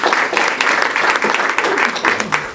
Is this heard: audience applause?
yes